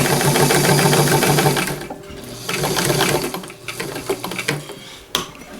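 A home sewing machine runs a continuous, close, loud whirring stitch through skirt fabric, then slows and stops, leaving a few softer mechanical clicks and handling noises.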